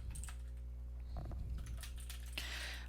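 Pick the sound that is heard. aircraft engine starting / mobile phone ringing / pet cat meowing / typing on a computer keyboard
typing on a computer keyboard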